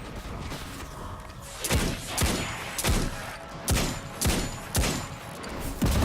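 Several heavy explosive thuds from grenades in the Destiny 2 sci-fi shooter, played as a Warlock on Mars, land at a fairly regular rhythm, each a sharp loud blast with a short decay over a steady background of game noise.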